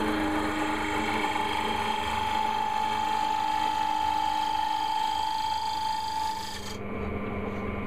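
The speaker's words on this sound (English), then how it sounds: "let's just stop the lathe" A wood lathe spins an earring holder workpiece, giving a steady rasping, whirring drone with a sustained tone that winds down near the end as the machine stops.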